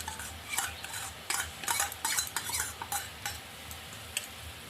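A spoon whisks a small spoonful of yogurt in a bowl, giving a run of quick scraping and clinking strokes in uneven bursts, close and fairly soft, with no voices.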